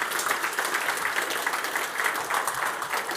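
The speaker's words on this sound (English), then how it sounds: "A round of applause to our speaker" A conference audience in a hall applauds a speaker, giving a dense, steady wash of clapping that runs evenly throughout without a break.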